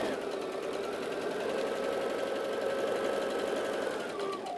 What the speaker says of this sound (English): we're going to sew this top seam right here